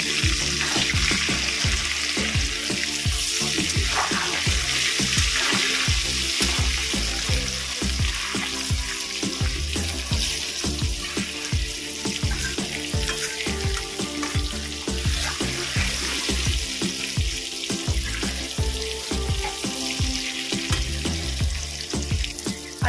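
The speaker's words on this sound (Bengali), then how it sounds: "আলুটা আমি হালকা করে ভেজে নেবো" Potatoes frying lightly in oil with salt and turmeric give a steady, loud, continuous sizzle with crackling throughout, and no voices.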